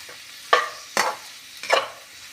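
A spatula stirs bitter gourd and okra sabzi in a pan, three separate scraping strokes spaced about half a second apart over a faint sizzle, close and clear with no voices.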